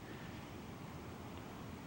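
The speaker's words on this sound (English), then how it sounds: "The tide is coming in and the waves are breaking nice" Ocean surf breaks on the shore beside a coastal highway north of Los Angeles as the tide comes in, a faint continuous wash of waves mixed with wind noise.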